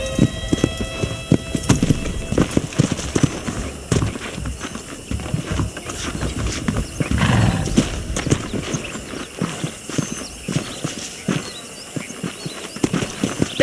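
Horse hooves clip-clop steadily through a ride in the video game Red Dead Redemption, a continuous rhythmic patter of hoofbeats up close with ambient game sound underneath and no talking.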